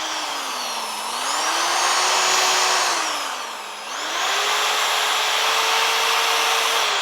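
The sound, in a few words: power drill drilling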